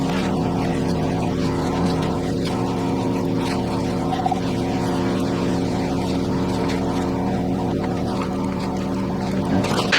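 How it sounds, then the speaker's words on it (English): A car engine hums steadily and continuously at close range as the vehicle reverses to pull the slack out of a winch line, a constant droning tone with no voices. "The next step we're going to do is to reverse the car backwards and essentially pull out all of that slack"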